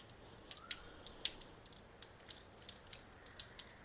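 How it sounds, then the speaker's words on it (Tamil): Water poured over an AGARO Cosmic Plus sonic electric toothbrush to rinse it, giving soft, close splashes and scattered drips with a brief louder splash, all fairly quiet and with no talking. "நீங்கள் அப்படியே சும்மா பாருங்கள், ஃபுல்லாக கூட தண்ணி ஊற்றி கழுவலாம்"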